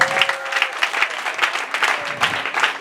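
Church congregation applauding during a Sunday worship service, steady dense clapping filling the room with an even, continuous rhythm and no voice over it.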